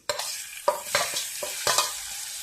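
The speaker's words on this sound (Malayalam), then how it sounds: "അപ്പം നമുക്കിനി മീൻ വറുക്കാം" Fish fried in oil in a hot pan, heard as a steady, fairly loud sizzle broken by several scraping stirs and shuffles of the pieces, close by, with no talk.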